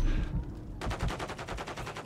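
Rapid automatic gunfire from Call of Duty MW3, a loud, fast stream of evenly spaced shots that breaks out after a brief muffled lead-in and keeps going to the end.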